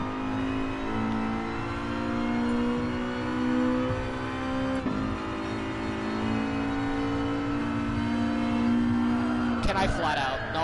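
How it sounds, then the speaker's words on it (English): A racing video game Acura Integra accelerates with a steady high sequential gearbox whine riding over the engine drone, rising gradually, with a brief clatter near the end. "don't you love it when you hear the whine of the fucking sequential gearbox?"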